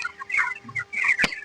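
Broiler chickens on a small farm cluck in short, close bursts, several birds overlapping with brief pauses between calls, with no talk.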